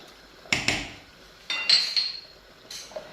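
Moroccan harira simmering in a pot is stirred, giving a few sharp metallic knocks and clinks of a ladle against the pot in separate bursts, close and moderately loud with no talking.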